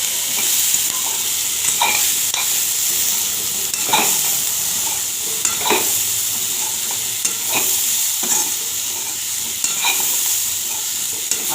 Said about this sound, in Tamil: கடலை, இந்த தாளித்த வெங்காயம் மிளகாய் எல்லாத்தையும் சேர்த்து நன்றாக வதக்கி எடுக்கலாம்